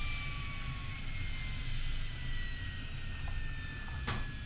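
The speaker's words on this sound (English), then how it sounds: "Let's get the right engine coming down." Jet engines on a Cessna Citation spool down after shutdown, a steady falling whine over a low rumble, with a few brief clicks and no talking.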